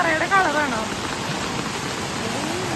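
Heavy rain pours at Poomala dam, a dense, even hiss of falling water, with a brief voice at the very start.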